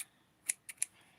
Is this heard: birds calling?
no